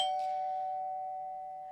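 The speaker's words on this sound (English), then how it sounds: "As you're sipping your coffee, the doorbell rings." A doorbell chime rings once in an interactive horror story game, a clear bright tone that decays slowly over under two seconds, alone with no voices.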